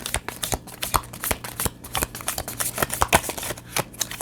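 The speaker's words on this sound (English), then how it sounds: "Oh, it's so hard to shuffle these because they're round." Round tarot cards being shuffled by hand, a rapid irregular flurry of crisp riffling and slapping sounds up close, with no talking.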